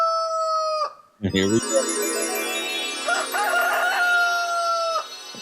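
A rooster crows loudly and close in a long, drawn-out call with clucking chickens around it, following a brief spoken phrase; the barnyard sounds dominate the rest of the clip.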